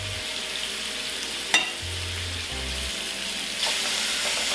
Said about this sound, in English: sear this up, get some browning on it